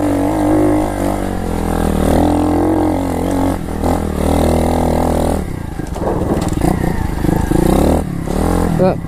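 A pit bike's engine revs hard while riding off-road, a loud, buzzy single-cylinder drone that rises and falls with throttle, briefly dipping and clattering midway before surging again, close and continuous.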